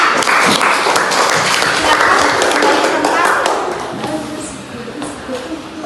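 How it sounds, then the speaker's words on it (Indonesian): Schoolchildren in a primary maths class clap for a classmate, a burst of close, lively applause that tapers off toward the end with some voices underneath. "Tepuk tangan buat temannya."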